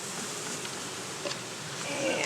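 Honeybees hum around an open hive during a beekeeping demonstration after smoke is puffed in, a steady close buzz with a louder drone building near the end.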